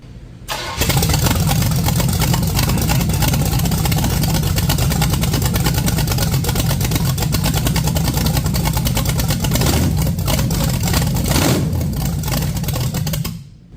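A cheap, budget-built small-block Chevy V8 with an unknown camshaft roars loudly as it is revved hard. The engine note holds steady and rough for about thirteen seconds, then cuts off abruptly.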